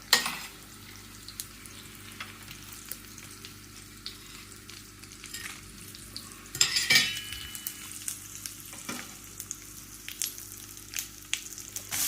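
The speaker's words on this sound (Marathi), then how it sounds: "जिरे, मोहरी, आता हा दाखवायचा सगळा खडा मसाला घालते." Cumin, mustard seeds and whole spices sizzle steadily in hot oil, a close, continuous crackling fry with scattered pops and a brief louder burst of spattering midway.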